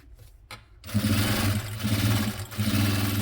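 A sewing machine runs steadily as it stitches straight seams on a cloth shopping bag. After a brief quiet start, the motor hums loud and close, with short pauses between runs.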